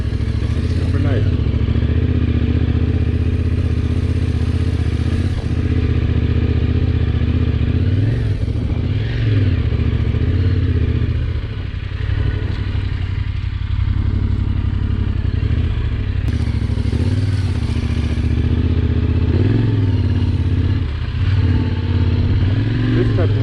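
A motorbike ridden along a road in Norway gives a steady, loud engine drone with wind rush close to the mic, the pitch shifting slightly with throttle changes over the whole stretch, while a rider's voice is faintly present.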